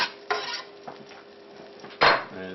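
Garlic dropped into a hot pan, metal utensil scraping and clanking against the pan in a few sharp strikes over a faint sizzle, close by with no talking.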